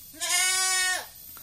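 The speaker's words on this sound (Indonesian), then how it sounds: "cerewetnya kambing itu mengganggu dari kita sendiri sebagai peternak" A single goat on a farm lets out one loud, close bleat that lasts nearly a second, then quiet remains.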